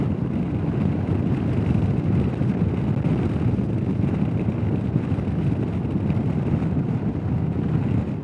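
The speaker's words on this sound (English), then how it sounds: "Lots of wind." Heavy wind buffets the microphone during a Royal Enfield Himalayan motorcycle ride along a forest drive, a loud, constant low rumbling roar with the engine buried beneath it.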